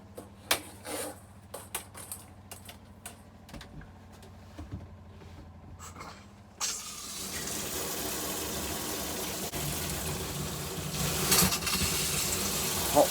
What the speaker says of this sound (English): We'll do the shower as well.